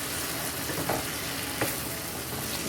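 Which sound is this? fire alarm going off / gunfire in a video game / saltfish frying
saltfish frying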